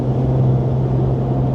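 A Ram RHO pickup with an AWE exhaust cruising uphill at 70 mph, heard from the cabin as a steady low engine drone with road and wind noise, the exhaust barely standing out.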